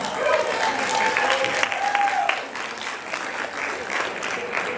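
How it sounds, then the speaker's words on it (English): Audience applause at a school district retirement ceremony during a board meeting, steady dense clapping from a sizable crowd filling the room, loud and continuous with a faint voice or tone briefly underneath. "Another round of applause."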